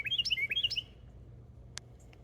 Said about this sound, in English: Pretty little bird.